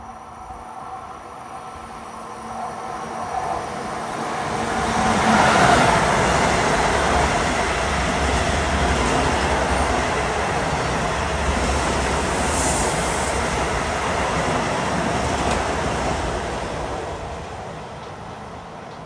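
A Long Island Rail Road train, the 1964 from Penn Station to Ronkonkoma, rushes past the Garden City area, a broad roar that swells, holds, then slowly fades.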